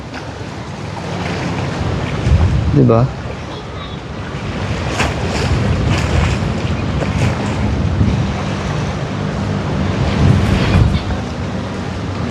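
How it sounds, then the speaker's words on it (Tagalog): Strong wind buffets the microphone at the seaside in Boracay, with waves and surf rushing steadily underneath, loud and close throughout, and a person briefly speaking. "lakas ng hangin, grabe"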